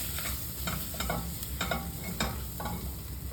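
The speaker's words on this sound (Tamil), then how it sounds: "இப்போ இது எல்லாத்தையும் சேர்த்து இதில் வதக்கிக்கோங்க" Masala spices for broccoli rice sauté in a pan, a faint steady sizzle with repeated soft scraping stirs of a spoon in an irregular rhythm, no talk.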